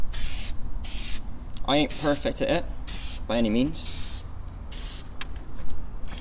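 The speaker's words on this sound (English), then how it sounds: "So now what we want to do with the spray, you want to spray it across in drag motion." Spray coating from a Halfords headlight repair kit hisses out of an aerosol can onto a car headlight in a series of sharp, close bursts about a second long, with someone talking between and over the sprays.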